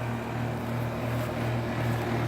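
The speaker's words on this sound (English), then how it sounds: "This Weather King just started up right there." A Weather King central air conditioner outdoor unit at a condo complex hums and whooshes steadily with a low droning tone at close range. No one talks.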